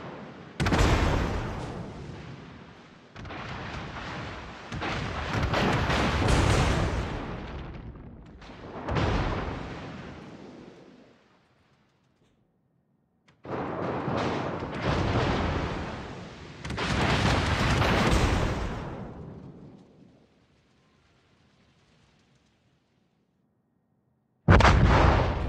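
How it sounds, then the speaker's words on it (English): Warship main-battery salvos boom in World of Warships, several long, loud, rumbling blasts in separate bursts with quiet gaps between, close and dominant with no talk. "Concentrate fire on the enemy warship."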